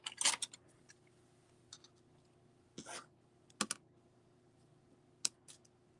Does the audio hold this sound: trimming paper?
yes